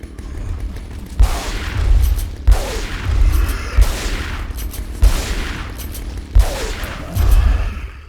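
Shotgun fire in a video game: about five heavy, loud blasts spaced roughly a second apart, each trailing into a rumbling echo, with no voices.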